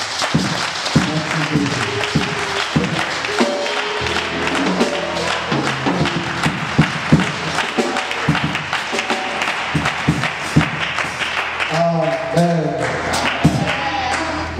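A church congregation breaks into sustained applause and clapping to welcome an evangelist, dense and continuous throughout, with scattered voices, cheers and thumps mixed into the crowd noise.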